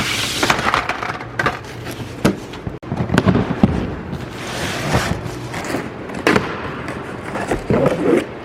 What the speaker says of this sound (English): Sometimes it's easier to just destroy the box.